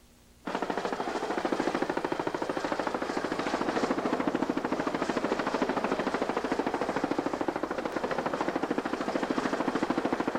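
A Coast Guard helicopter hovers during a sea rescue above a longliner, its rotor beating in a fast, steady, even chop that stays loud and close throughout, with no talking.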